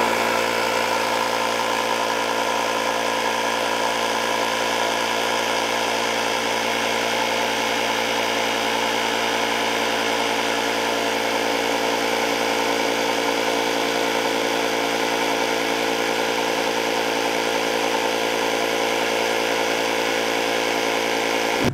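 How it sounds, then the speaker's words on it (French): Ryobi R18I cordless compressor runs continuously while inflating a car tyre, a steady, close mechanical buzz with constant vibration from start to finish and no talk. "j'ai plus qu'à appuyer sur ce bouton-là pour actionner le compresseur et commencer à gonfler mon pneu"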